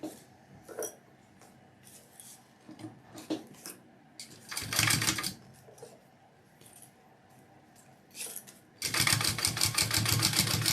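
A sewing machine top stitching vinyl runs in short bursts with pauses, ending in a louder sustained run of stitching near the end.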